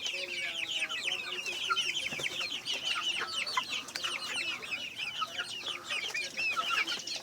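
Native chickens on a farm cluck and call continuously in a dense, close chorus, with occasional louder squawks rising over the steady flock chatter.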